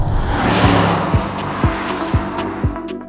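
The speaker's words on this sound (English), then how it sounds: "You mash the throttle. Yeah, game over. This car takes off like you wouldn't believe." A 2024 Mercedes-AMG GT under hard full-throttle acceleration, the engine note climbing in a loud rising roar, broken by a series of quick upshifts, each marked by a sharp dip and a fresh climb. No voices.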